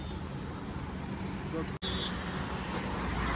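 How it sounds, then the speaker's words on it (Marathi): Steady road traffic on the Mumbai–Goa highway near Panvel, heard from a Duke 250 motorcycle: a continuous low roar of vehicles and wind noise, with one brief dropout midway and no clear speech. "आता काय ट्रॅफिक भेटली ना आम्हाला"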